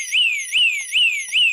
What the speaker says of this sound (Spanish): Vamos a hacer el salto de alarma.